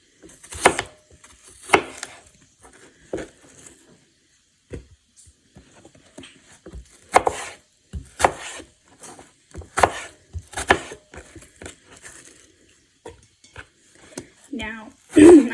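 A knife chops pears on a cutting board in a home kitchen for applesauce, sharp irregular knocks in short bursts with pauses between.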